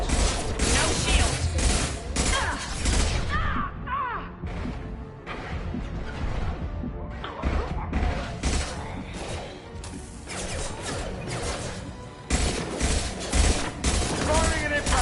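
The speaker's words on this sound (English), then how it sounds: "Firing an impact gun!" An impact gun fires in Mass Effect 2 combat, a dense, continuous barrage of loud shots, crashes and mechanical clatter with no let-up.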